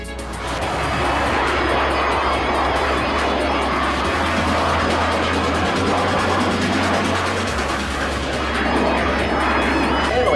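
Blue Angels F/A-18 Hornet jets passing low and slow at an EAA AirVenture airshow: a loud, steady, broadband jet roar that fills the whole stretch with a low engine rumble beneath it.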